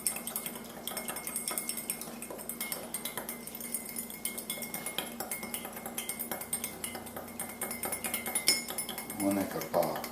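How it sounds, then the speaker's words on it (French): A spoon stirring sugar into water in a bowl or glass to dissolve it for yeast in pizza dough, giving quiet rapid clinks and scrapes in a steady rhythm, close and faint. "on brasse pour faire dissoudre le sucre"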